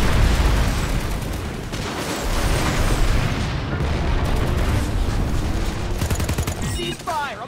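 Continuous heavy gunfire from the online shooter PlanetSide, with dense rattling automatic fire and booming blasts forming a loud, unbroken barrage throughout.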